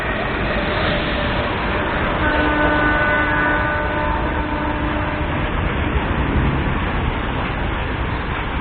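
The Mussoorie Express pulls out of Najibabad Junction with its locomotive attached, a loud steady rumble of the train plus a long sustained horn tone, all without speech.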